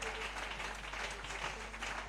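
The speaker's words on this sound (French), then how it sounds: "let's clap for the interpreter." A church congregation claps for an interpreter in a short burst, a continuous, fairly faint patter of many hands over a low steady hum.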